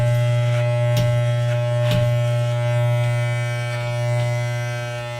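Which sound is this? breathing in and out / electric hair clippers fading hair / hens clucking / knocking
electric hair clippers fading hair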